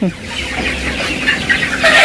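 Many chickens clucking and squawking together in a busy, continuous chorus, fairly close and loud, with no talking.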